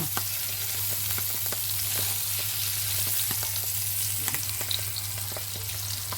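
Toulouse sausages fry in a pan on a gas stove, a steady close sizzle and crackle running throughout with small pops and occasional stirring ticks.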